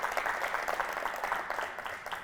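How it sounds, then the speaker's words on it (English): Audience applause for speaker Kym Huynh of WeTeachMe at a business talk: steady, moderately loud clapping from a crowd, dense and continuous throughout with no voices over it. "can we have a round of applause for Kym Huynh of WeTeachMe?"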